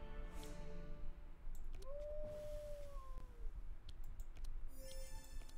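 A piercing howl ability fires in the video game Across the Obelisk: a single rising and falling tonal howl cuts through soft game ambience and scattered clicks, with no voices.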